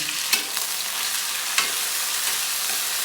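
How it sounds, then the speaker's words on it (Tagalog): Onion and garlic sauté in a hot pan with a steady, close sizzling hiss, broken by a few faint clicks of stirring. "gisa natin yung sibuyas. Bawang."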